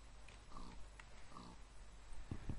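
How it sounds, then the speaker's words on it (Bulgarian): Short Minecraft pig grunts sit over a steady low background hum, quiet and close, with a few brief oinks spread across the moment. "Грош, това е прасето."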